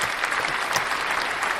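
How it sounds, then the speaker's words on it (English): Brief burst of loud, close applause during a podcast recording with a special guest, a dense, continuous clatter of clapping hands lasting under two seconds. "We're gonna give a round of applause for that."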